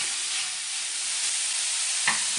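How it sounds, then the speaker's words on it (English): Italian sausage fries in a pan while being stirred with a rubber spoon, giving a loud, steady sizzling hiss that continues without pause, with a brief scrape near the end. "while it's cooking, you should use a rubber spoon to keep moving it around because you want to make it crumbly"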